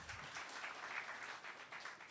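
Seminar audience clapping, a steady dense wash of applause from many hands, moderately distant and without talk over it.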